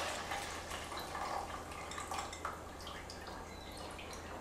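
Water kefir liquid pours through a plastic sieve into a plastic bowl, giving a faint, soft trickle with scattered small drips and splashes, alone and fairly quiet.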